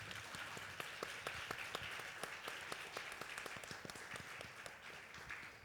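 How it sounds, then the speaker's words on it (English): Conference audience applauding: a faint, distant wash of many hands clapping, with individual sharp claps standing out across the whole stretch at an even level. "Can we please give them a round of applause?"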